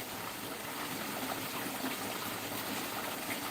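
Water splashing and gushing through a farm creek channel, a constant close rushing wash with bubbly splashes throughout and no talking.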